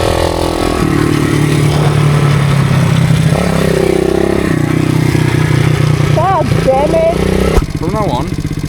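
A motorcycle engine on a beginner riding course hums steadily, then rises briefly as a little gas is given, with an instructor talking over it throughout.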